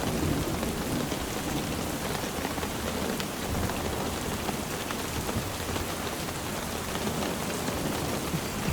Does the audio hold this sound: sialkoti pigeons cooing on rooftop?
no